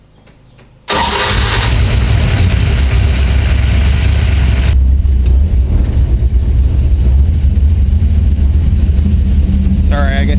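A car engine cranks briefly and catches with a loud burst, then settles into a steady, rumbling idle that runs close and loud throughout, with a faint voice near the end.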